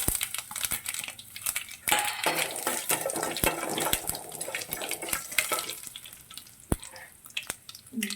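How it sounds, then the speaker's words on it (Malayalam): Mustard seeds and chopped ginger sizzle in hot oil in a pan, a soft, crackly frying hiss with scattered sharp pops and utensil clicks, fairly quiet and close, with no talking. "കുറച്ച് കടുക്, അതിനുശേഷം അരിഞ്ഞു വെച്ചിരിക്കുന്ന ഇഞ്ചി ചേർക്കുക."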